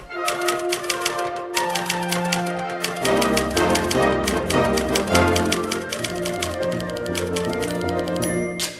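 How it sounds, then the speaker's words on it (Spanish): A mechanical typewriter clatters with rapid, irregular keystrokes and a few heavier mechanical clunks, close and loud throughout with no voices. "Aparecen registradoras, aparece la máquina de escribir, que es importante."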